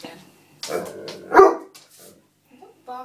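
Otterhound/Spinone cross dog barking in a tantrum indoors, a loud close bark burst amid short yips and whines, with someone talking over it.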